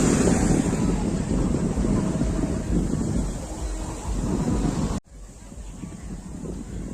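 Big ocean waves breaking on Shankhumugham beach, heard as a loud, steady surf roar mixed with wind buffeting the microphone, with an abrupt drop in level near the end before the rush resumes.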